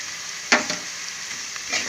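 Onions sizzling in hot oil with salt and chilli powder added, a steady soft frying hiss broken by a few short scrapes and stirs of the spoon in the pan.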